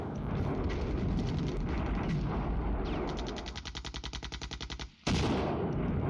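Heavy artillery and gunfire rumble nonstop in the wargame Flashpoint Campaigns Southern Storm, a dense roar breaking into a rapid train of sharp bursts, a brief cutout, then the barrage surging back loud.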